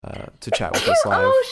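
A single abrupt sneeze bursts out at the start, immediately followed by a person talking over a podcast microphone.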